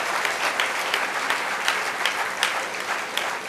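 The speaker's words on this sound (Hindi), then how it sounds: "हम भी पीछे नहीं रहेंगे तालियां बजाने में" Audience applause at a book launch for Lal Krishna Advani's book 'Mera Desh Mera Jeevan': dense, steady clapping from a crowd, close and continuous throughout, with no talking over it.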